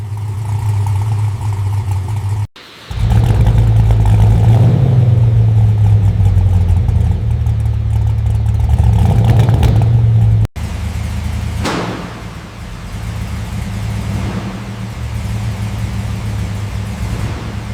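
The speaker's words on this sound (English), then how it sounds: "The 427 engine unleashes its full potential." A Chevrolet Impala SS 427 engine runs loud and steady, holding a sustained roar with a brief cut near the start and another midway, then settling into a slightly lower, rougher idle-like drone.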